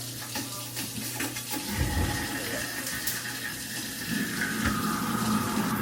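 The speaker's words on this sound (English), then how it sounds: "We're gonna run some hot water" Hot water runs steadily from a kitchen sink tap, a continuous close-up rush and splash that swells a little partway through, with faint background household noise.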